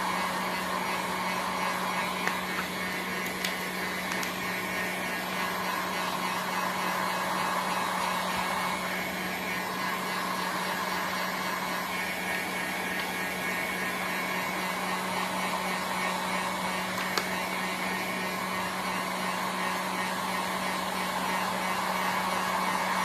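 A heat gun blows steadily while curing white screen printing ink on a black t-shirt, a continuous airy whine and hum with a low electrical drone, constant and moderately loud throughout.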